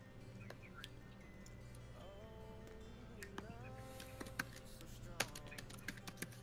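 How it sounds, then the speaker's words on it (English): Fast, forceful typing on a computer keyboard, a dense stream of close clicks and key taps running throughout, with faint low voices and background hum underneath. "I hear some angry typing going on."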